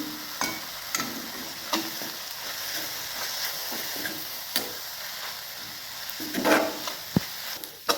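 Methi (fenugreek) greens with ground peanut powder stir-fry in a pan, giving a soft steady sizzle broken by occasional spoon scrapes and taps, a sharper clatter near the end, no voices.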